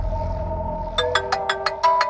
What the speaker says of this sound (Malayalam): ഇയാളെന്താണ് ആവശ്യത്തിന് വിളിച്ച ഫോൺ എടുക്കയില്ല